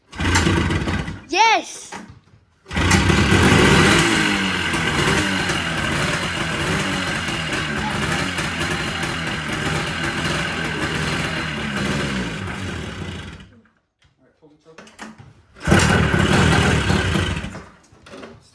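An old snowmobile engine cranks, catches and runs loud and steady for about ten seconds, cuts out, then fires up again briefly, while a voice speaks a word.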